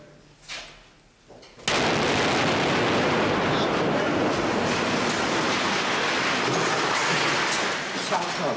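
A loud, sustained blast roar erupts after a quiet start in a war-damaged city, a dense broadband rumble that holds for several seconds before easing slightly.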